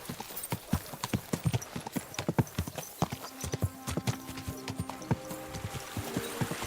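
Horse hooves clip-clop in a steady, close run through Kingdom Come Deliverance 2, the sharp strikes carrying over faint background music with no talking.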